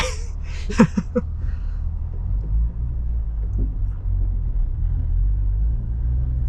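A manual car creeps along in first gear, a low, steady engine rumble that grows slightly stronger toward the end, with a few brief vocal sounds near the start.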